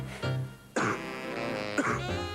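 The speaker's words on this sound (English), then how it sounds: "When you have a cough, it goes where you go." Three heavy, chesty coughs in quick succession in a 1995 Australian television advertisement for cough medicine, loud and near, each a rough burst with a throaty tail.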